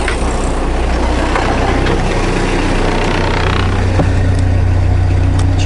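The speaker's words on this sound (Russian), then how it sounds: "Ну, тогда заводим мотор." A yacht's motor running steadily, a loud continuous engine drone with a low humming tone throughout, no voices over it.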